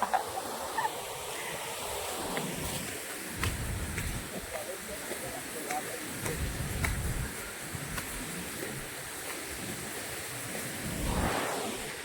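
Water rushes over the overflowing Limbali dam as a continuous, fairly quiet broadband roar heard from a distance, with faint voices and handling noises mixed in.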